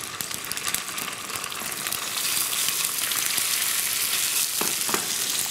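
Cod fillets searing in a hot pan at a restaurant kitchen, a steady loud sizzle and crackle of frying that intensifies midway, with occasional scraping and clatter and no talking.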